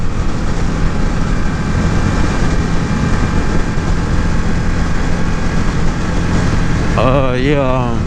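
A 2018 Indian Scout motorcycle ridden in second gear, heard as a loud continuous engine roar mixed with wind rush, with a short wavering voice-like sound near the end.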